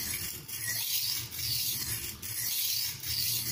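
Knife blade sharpened on a Norton India coarse stone, a rhythmic close gritty scraping in repeated strokes of about one second each, loud and steady.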